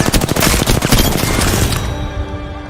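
Rapid automatic gunfire in a video game, loud and close, a dense stuttering burst of shots that cuts off and leaves a ringing tonal tail fading out.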